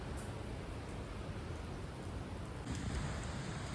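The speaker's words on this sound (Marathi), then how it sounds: "पाऊस आला म्हणून थांबलो इथे" Steady rain falls outside a hilltop temple in a cloud-covered hill village, a dense even hiss throughout that swells slightly louder toward the end, with no voices.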